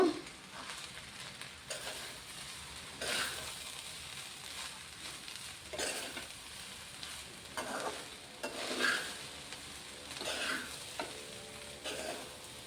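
Veg fried rice tossed with pepper powder in a hot pan: rhythmic spatula scrapes and stirring strokes over a soft continuous sizzle, close and moderately quiet, without speech.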